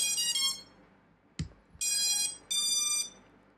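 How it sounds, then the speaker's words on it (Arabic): Drone electronic speed controllers chirp on battery connection: a first burst of rising tones, a short click, then two longer bright high-pitched beeps, clear and close in an otherwise quiet room. "بعد ما توصل البطارية راح تسمع احلى ثلاث رنات"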